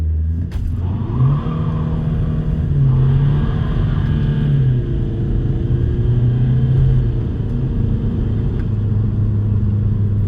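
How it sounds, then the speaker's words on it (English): A VW TDI diesel with a DSG gearbox launches hard under launch control in sport mode with traction control off, a loud, steady engine roar that climbs and drops with each gear change before pulling on, close and continuous. "so we are going to try launch control"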